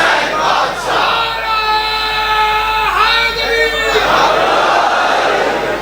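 A crowd at a majlis in Lahore shouts a religious slogan together, a loud sustained chorus of many voices rising and holding for several seconds amid general hall noise.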